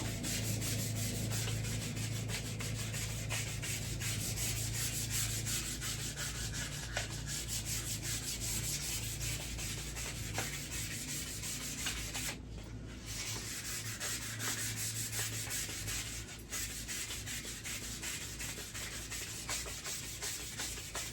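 Fine 120-grit sandpaper rubs steadily over a firearm's surface during restoration smoothing, a soft continuous scratchy hiss with rhythmic strokes, close and alone without talk.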